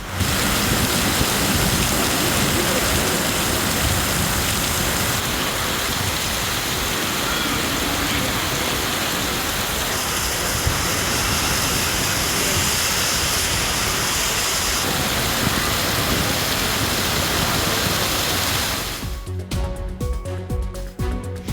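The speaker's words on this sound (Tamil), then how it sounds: "பலத்த காற்றுடன் கனமழை கொட்டியது" Heavy rain pours down in a strong wind across Tamil Nadu districts, a dense, loud, continuous roar of downpour lasting throughout, breaking up near the end.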